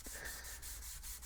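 Sandpaper of 400 grit rubbing across a carbon fiber build surface, working the center, with repeated short back-and-forth strokes, close and fairly quiet, alone without talk.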